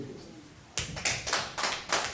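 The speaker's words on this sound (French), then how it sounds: "Allez, on applaudit pour Shalom." A small group claps in a church, starting after a quiet moment with a few close, rhythmic, fairly crisp hand claps.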